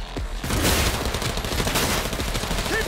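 In Cyberpunk 2077, a dense, loud barrage of automatic gunfire and booming shots keeps going without a break, close and overwhelming, with the fire in heavy rapid volleys throughout.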